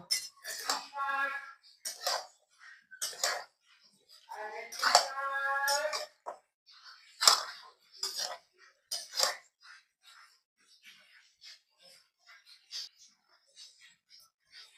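Chicken is mixed with oil and bay leaves in a bowl, with intermittent clinks and scrapes of a utensil against the bowl while someone talks.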